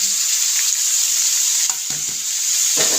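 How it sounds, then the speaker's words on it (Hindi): Chopped, washed onions sizzle steadily in a hot pan with oil, a constant bright hiss broken by a few soft clicks of stirring, with no talking. "अब प्याज हम अच्छे से फ्राई करेंगे।"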